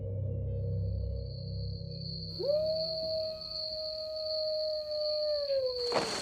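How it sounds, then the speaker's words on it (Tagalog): A long, eerie, wavering howl said to come from an aswang creature outside a house at night, rising from quiet and holding steady for several seconds before breaking off with a sudden loud burst at the end. "muli naming narinig ang alulong ng aswang sa labas ng tinitirhan namin"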